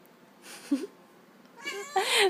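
A female cat meows twice indoors, the first a short chirp and the second a louder, drawn-out meow near the end, close to the listener.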